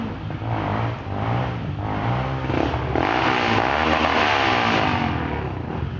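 A tractor engine revs hard on a dirt trail, a loud, rough mechanical roar that rises and surges in intensity over several seconds.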